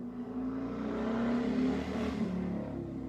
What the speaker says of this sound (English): Okay, that loud ass motorcycle though.